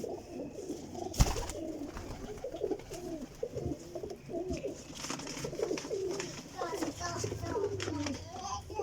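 High-flying champion pigeons coo in a continuous overlapping murmur from a flock, with faint voices and occasional knocks mixed in.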